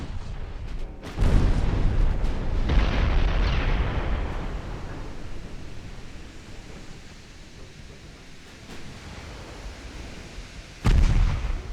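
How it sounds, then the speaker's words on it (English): Heavy 10-inch naval guns of enemy cruisers boom in a naval war game, a loud deep blast followed by a long rumbling decay, then a second sharp blast near the end, with no talk. "Tunis has now taken some hits. 10-inch guns from the enemy cruisers."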